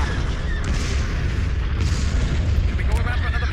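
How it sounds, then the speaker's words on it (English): Laser cannons firing during a space battle in a Star Wars video game, a dense, continuous roar of blasts and booms layered over rumbling engine noise, loud and sustained throughout. "Fire on those laser cannons."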